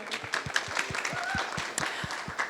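A small audience at an opening reception claps to welcome Anna Chatterton to the stage, a light patter of handclaps with a cheer rising over it, close and moderately loud.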